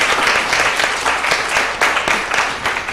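An audience claps for children at an Africa children summit, dense steady applause from a crowd that runs the whole time at moderate loudness.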